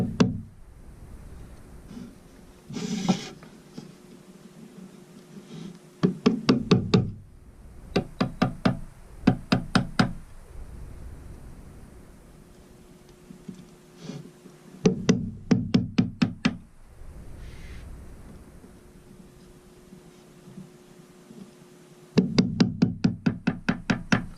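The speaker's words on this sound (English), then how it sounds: "we'll have to go back and clean it up with a chisel" A chisel pares out the corners of a wooden serving tray, giving bursts of quick, sharp tapping and knocking strikes separated by quieter stretches, close by and fairly faint.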